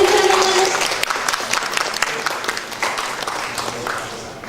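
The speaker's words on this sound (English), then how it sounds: "Give applause, please, ladies and gentlemen." An audience at an amateur radio seminar breaks into strong applause that starts loud and gradually tapers off, many hands clapping together, with a brief tonal sound near the start.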